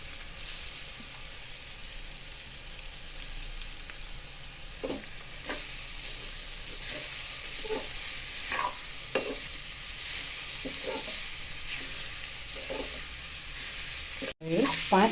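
Grated potato with chili powder, turmeric and coriander-cumin powder fries quietly in a pan for a leftover roti snack, a soft steady sizzle broken by repeated scraping stirs, ending in a sharp clatter.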